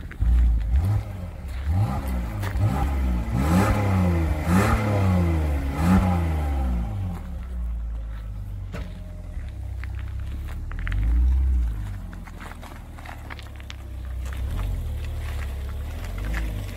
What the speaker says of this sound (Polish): posłuchajcie, jak sobie pięknie mruczy ten silniczek